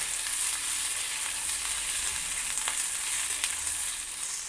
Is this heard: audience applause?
no